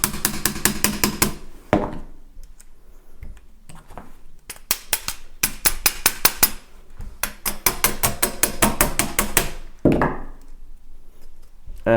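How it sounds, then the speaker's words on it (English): A hammer knocks a part into place on a build project, loud metallic strikes in rapid bursts and clusters, close up, with short pauses between runs of blows and no talk. "I probably will need some hammer time here also"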